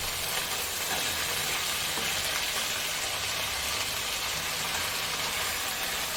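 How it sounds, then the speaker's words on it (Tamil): Cut brinjal sautéing with onions and peanuts in a pan for vangi bath, a steady broadband sizzle and frying hiss running continuously at close range with no talking. "வெங்காயம் நல்லா வதங்கிட்டு இப்போ இதில் கட் பண்ணி வச்சுருக்கிற கத்திரிக்காயை சேர்த்துக்கோங்க"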